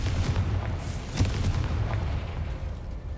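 A Confringo fire spell explodes in Hogwarts Legacy, a sharp boom near the middle over a steady low rumbling game soundscape with a few smaller bursts.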